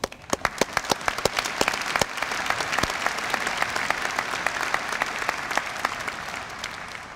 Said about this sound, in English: we all deserve a round of applause for reaching this milestone